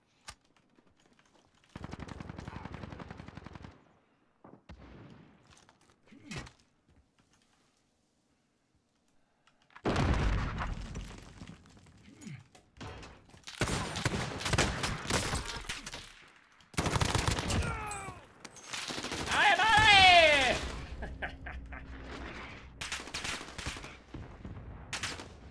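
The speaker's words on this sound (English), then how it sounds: "Okay, there's two teams shooting me." Gunfire in the video game Call of Duty Warzone comes as several bursts of rapid automatic shots and single cracks, separated by quiet gaps. The shooting from enemy teams is close and loud.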